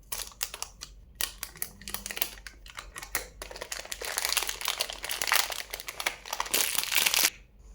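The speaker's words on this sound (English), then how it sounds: "It's time to open up the cube." Packaging around a MOYU Aosu V7 speed cube is opened up close, with crinkling plastic, rustling and small clicks. The sounds grow denser and louder toward the end, then stop.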